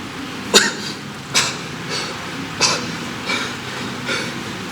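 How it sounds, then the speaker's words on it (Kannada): A series of five coughs, spaced about a second apart, the first ones loudest and the later ones fading weaker, with no talking. "ಆ ಕೆಮ್ಮು ತುಂಬ ಕೆಟ್ಟದು"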